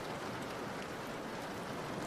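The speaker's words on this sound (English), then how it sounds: "It's pouring rain now." Steady pouring rain hisses evenly throughout, a dense, close wash of falling water with no pauses and no other sounds above it.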